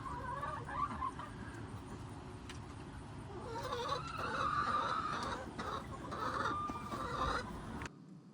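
Backyard hens cluck softly and continuously while pecking at a homemade flock block, with a few brighter, higher calls rising over the steady murmur, close by.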